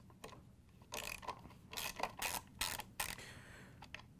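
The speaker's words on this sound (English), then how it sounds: "We're going to use a 5/16" socket with a ratchet to take out the bolt." A ratchet with a 5/16-inch socket backs a bolt out of a GE appliance hinge cover. It makes bursts of quick, dry clicking strokes with short pauses between them, close and clear.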